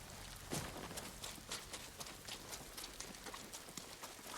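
Horse hooves clip-clop in a steady walking rhythm on a video-game mount in feudal Tsushima, a moderate, even run of soft thuds over faint background noise, with no talk.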